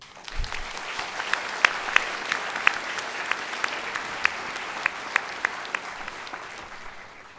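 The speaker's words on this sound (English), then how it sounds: "Shall we have a round of applause?" Audience applause at a university presidential installation ceremony, a steady moderate wash of clapping with a few sharper individual claps standing out, heard from a slight distance in a large hall.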